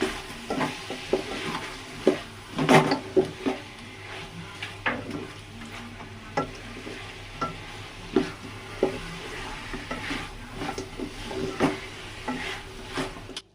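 Chicken biryani masala with mint and coriander leaves cooking in a pot, a steady soft sizzle broken by repeated scraping stirs and occasional clinks of a spoon against the pan, close and moderately loud with no talking.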